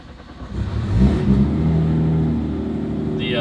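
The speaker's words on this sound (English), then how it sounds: "it is a beast of a GTR. And it sounds good" Nissan R35 GT-R making about 1,200 horsepower, its engine revving up and then settling into a loud, steady drone, with a brief high-pitched whine near the end.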